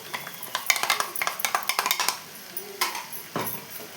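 Roasted peanuts being stirred in a metal pan, a quick run of close clinks and scrapes that thins into a few separate knocks.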